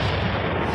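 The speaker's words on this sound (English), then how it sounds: "Absolutely, we'll fire the cannons for that." A loud, dense burst of cannon fire played as a sound effect to celebrate the Bucs, a short booming blast that fills the whole moment.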